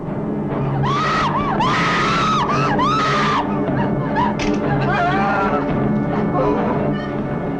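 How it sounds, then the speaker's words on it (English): Shrill screams ring out in a horror film trailer, several sharp wails in quick succession over a dense, loud backdrop of dramatic sound and a narrator's voice. "When the horror becomes unbearable, it is too late to scream."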